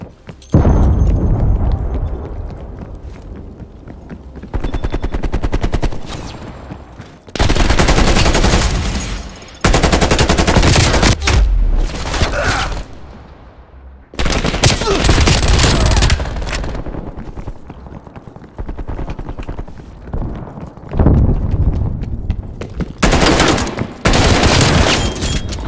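Krig 6 assault rifle from Call of Duty: Cold War firing in loud, repeated automatic bursts, with short gaps between volleys; no talking.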